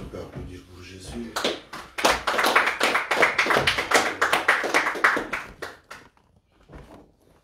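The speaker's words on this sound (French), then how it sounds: "Est-ce qu'on peut applaudir pour Jésus?" A church congregation claps for Jesus after a French prayer, with sharp uneven hand claps that build into a lively burst, thin out and stop, some softer taps trailing off near the end.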